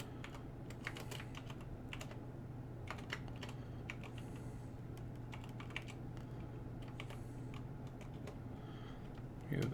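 Steady typing on a computer keyboard: a close, continuous run of light key clicks with irregular rhythm over a low constant hum, and no voices.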